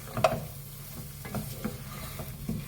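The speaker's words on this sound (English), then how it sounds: "we're gonna give it a good stir to just get everything in there going." Beef bones stirred into a pot of onion, garlic, celery, coriander and spring onions for bone broth, giving a few soft knocks and scrapes over a low simmering sizzle, close and fairly quiet.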